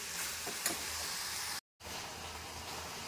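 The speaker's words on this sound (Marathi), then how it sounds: "फक्त जिरे आणि मोहरी टाकून फोडणी टाकलेली आहे" Cumin and mustard seeds sizzle in hot oil as a tempering, giving a steady, close, hissing fry with a few faint pops; the sound cuts out briefly midway and then resumes, with no talking.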